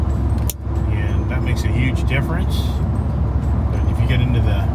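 A Ford F150 Super Snake Sport truck rolls along a road, its cabin filled with a steady low road rumble and engine drone, with occasional clicks and rattles.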